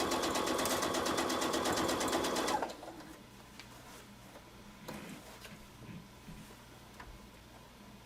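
Sewing machine stitching a machine appliqué, a steady rapid mechanical whirr that runs for about two and a half seconds and then stops, leaving quiet room noise.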